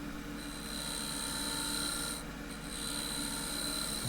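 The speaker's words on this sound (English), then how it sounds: "I'm just using a shear scrape with the right wing of the tool." A tool shear-scrapes a small maple bowl spinning on a wood lathe, giving a continuous close rasping rub over a steady motor hum and a high whine. The sound dips briefly midway, and no one talks.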